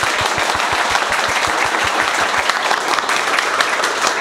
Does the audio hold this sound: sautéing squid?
no